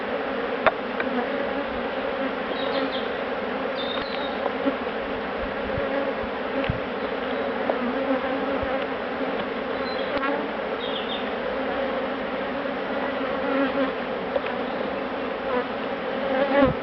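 Japanese honey bees buzz steadily around hive boxes, a dense, continuous insect hum with individual bees droning close by now and then, no voices.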